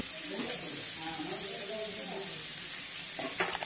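Two medium onions, finely chopped, drop into hot oil and sizzle steadily with a bright, crackling hiss while preparing a veg bread sandwich filling, with faint low talk underneath.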